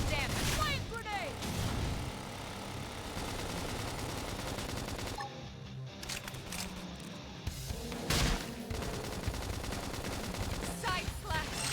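Combat effects from the Xenoblade Chronicles X mech game as a flame grenade attack goes off, with dense, busy bursts and crackling blasts, a loud hit near the start and another about two-thirds through, then continued clatter.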